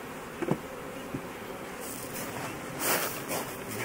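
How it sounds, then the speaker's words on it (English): Honey bees shaken from hive frames during a hive split, their steady buzzing swarm audible throughout with a few soft knocks and thumps as frames are handled, louder bursts of wing noise near the end. "get that super and shake some bees down into this"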